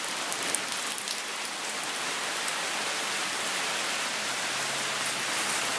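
Steady rain pours down outdoors, a dense even hiss with scattered drop patter on surfaces, constant and fairly close with no voices.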